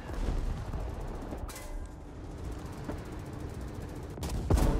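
Black Prince tank cannon fire in a battle video game, with a few distant heavy booms and sharp reports over a continuous low rumble of engines and battle noise.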